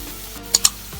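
Paneer bhurji with salt is stirred in a pan over a soft steady sizzle, with two sharp metallic spoon clinks close together in the middle and no talking.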